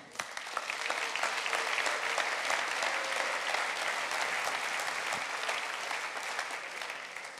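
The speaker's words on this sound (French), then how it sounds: "on peut leur donner à tous une bonne main d'applaudissements" Sustained applause fills the room at a mayor's dinner in Victoriaville as the audience honors contractors, swelling in quickly, holding a thick steady roar of many hands, then tapering slightly toward the end.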